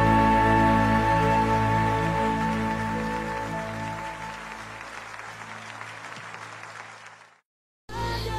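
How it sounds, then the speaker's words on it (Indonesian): Audience applause at a worship service, a dense wash of clapping that starts loud and gradually fades away, then cuts to silence before a short burst of sound at the end. "Mari bersama-sama kita berikan tepuk tangan yang terbaik hanya buat Allah."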